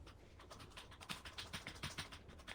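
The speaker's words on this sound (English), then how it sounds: "I can hear you tapping your keyboard." Quick, light taps on a computer keyboard, a rapid irregular patter of keystrokes heard faintly and close, with no voices.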